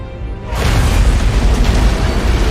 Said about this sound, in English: I'd guess an antimatter charge